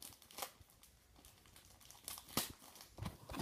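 Scissors cut through the slippery plastic wrap on a hockey trading card box, giving close, crisp crinkling and tearing with a few sharper snips and rustles spread across a few seconds.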